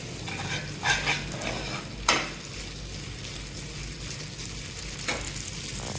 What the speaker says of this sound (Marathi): आता नूडल्स आपण छान प्रकारे मिक्स करून घेणार आहोत